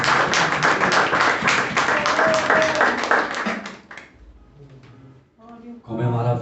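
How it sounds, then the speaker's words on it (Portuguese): Church congregation clapping together in a dense burst of applause for several seconds, then it stops and a voice speaks briefly over a quieter room. "dá um aplauso ao Senhor"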